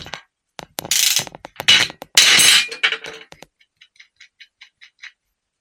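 A hand ratchet fitted with a half-inch socket undoes a nut on a car starter motor, with loud rasping bursts of clicks and then a run of quick, quieter ticks as it spins free.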